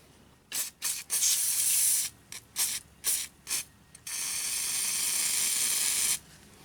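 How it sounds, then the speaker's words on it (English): An aerosol can of penetrating oil sprays in several short hissing bursts, then one long continuous spray before stopping, close and loud. "I'm going to hose this down with some penetrating oil"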